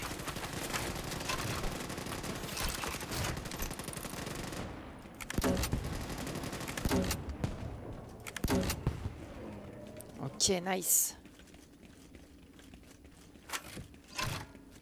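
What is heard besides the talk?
grenade launcher firing in a video game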